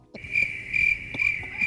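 Crickets chirp in a sound effect, a loud steady trill pulsing in regular bursts, with faint clicks and knocks in the background and no talking.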